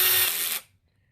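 A power drill runs for about half a second as it tightens fittings on an HTA 90/22 airsoft gun, a loud steady whir that cuts off abruptly into near silence.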